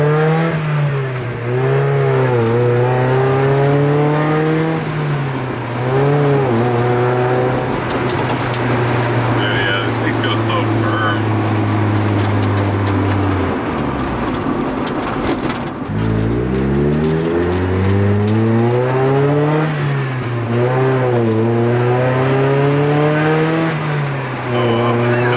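A 2022 Subaru BRZ on a race track, its engine loud and close, revving up through the gears in repeated rising sweeps, dropping off once for a shift or lift before climbing again, with people's voices faintly underneath.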